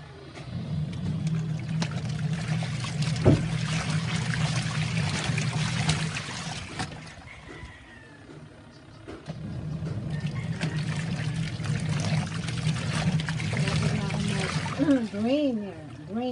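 Water pours steadily into a Sharp washing machine tub as it fills for a second rinse, a continuous close rushing and splashing with a brief lull midway and people talking over it.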